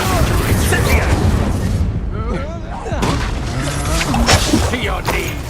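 Confringo and Bombarda spell blasts in the Hogwarts Legacy video game, booming explosions bursting one after another in a loud, dense battle mix while a voice shouts over the din.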